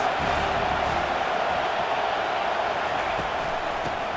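Steady stadium crowd roar fills a college football video game, USC against Arizona State, a dense continuous wash of cheering with no pauses.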